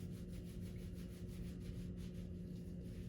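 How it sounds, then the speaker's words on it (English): A soapy towel is rubbed against itself in steady, rapid strokes during perineal care, a soft continuous scrubbing close to the microphone with no one speaking. "now I'm going to just rub it together to get the towel soapy"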